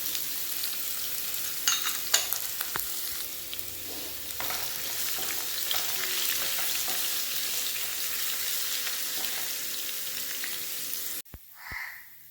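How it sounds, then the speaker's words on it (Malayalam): Garlic and ginger frying in coconut oil for pepper chicken, a steady, loud, close sizzle with faint stirring scrapes that cuts off abruptly near the end, followed by a brief clatter. "ഞാൻ വെളിച്ചെണ്ണ ഒഴിച്ചു കൊടുത്തിട്ടുണ്ട് അതിലേക്ക് നമുക്ക് വെളുത്തുള്ളി ചേർത്ത് കൊടുക്കാം ഇഞ്ചി ചേർക്കാം"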